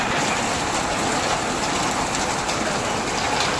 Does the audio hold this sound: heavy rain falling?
yes